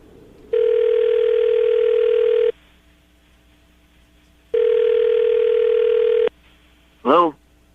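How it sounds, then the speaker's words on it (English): On a radio show, a call is placed: two long steady ringback tones sound a couple of seconds apart, then a brief warbling chirp closes the line, all loud and clear with faint room hum between. "we're about to dial the phone number right now"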